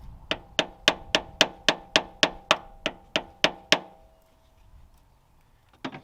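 A plumb hammer taps a flathead screwdriver while working on a Toyota Supra, a dozen sharp metallic strikes in a steady, even rhythm, close and loud, followed by quiet and one last tap.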